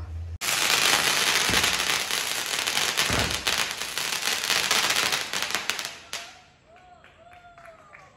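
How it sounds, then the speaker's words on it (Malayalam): A dense, continuous barrage of sharp crackling bursts, loud and sustained for several seconds, then fading into quieter scattered pops. "പടക്കം പൊട്ടണുണ്ടോ"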